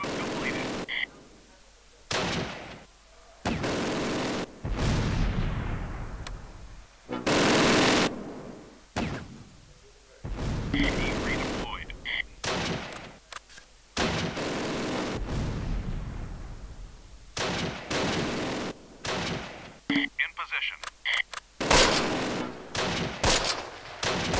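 Gunfire and explosions from the Close Combat: Last Stand Arnhem war game come in repeated loud bursts and booms with short gaps between them. A voice talks between the blasts.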